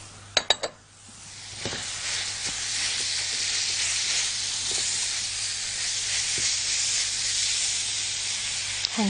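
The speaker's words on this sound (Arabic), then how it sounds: "تعالوا نحط بقى الفراخ المفرومة علشان تتعصج." Minced chicken hits a hot pan with softened onion and spices: a few sharp clanks of utensils, then a loud, continuous sizzling hiss that holds steady throughout, broken by occasional faint stirring scrapes.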